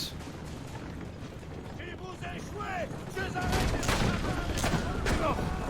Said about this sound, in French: J'adore tirer avec la mitrailleuse, pourquoi faut la détruire?